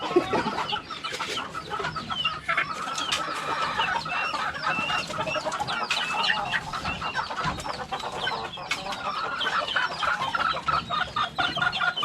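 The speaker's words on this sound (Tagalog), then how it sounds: "Patukan muna tayo ng manok." A flock of chickens and stags clucks busily at feeding time in the late afternoon, with dense, overlapping clucks and squawks close by, occasional rooster calls mixed in, no talking.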